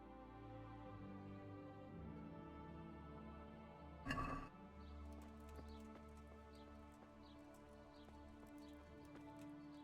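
Horse hooves in the medieval video game Kingdom Come: Deliverance make a soft, regular clip-clop that sets in partway through. It stays faint beneath sustained background music, with one brief louder burst just before the hoofbeats start.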